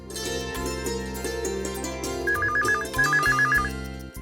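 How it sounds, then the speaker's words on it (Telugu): A telephone rings in two short bursts of rapid trilling electronic tones, heard over a steady background of music in a Telugu TV serial. "అరే ఆకాష్, ఆ ఫోన్ అందుకో."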